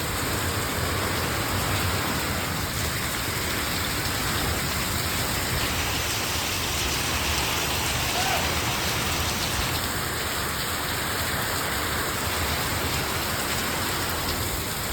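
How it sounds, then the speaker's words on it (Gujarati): Heavy monsoon rain pours down steadily in a dense, unbroken roar of drops hitting surfaces, loud and constant throughout with no voices. "ફૂલ એકદમ ધોધમાર વરસાદ ચાલુ થઈ ગયો"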